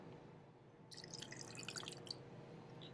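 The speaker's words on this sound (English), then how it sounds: "little bit of water." Water drips into a cocktail of liquor and black walnut bitters, a quick patter of small splashes lasting about a second against a quiet room hum.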